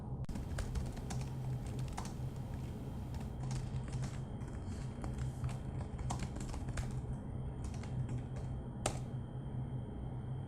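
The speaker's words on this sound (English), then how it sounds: "Simply type the following command." Keys clatter on a computer keyboard as a command is typed, a quiet, continuous run of rapid close clicks with no voice over them.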